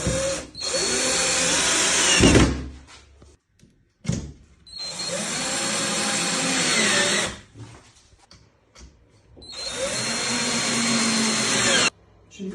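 A power drill drives 20x30 screws into a five-shelf metal bookshelf during assembly: three loud, close whirring bursts of a few seconds each, separated by quieter gaps with small clicks and handling knocks.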